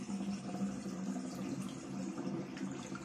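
Water being poured out of a container during a colour-reveal doll play session, a steady splashing, gurgling stream heard close and continuous.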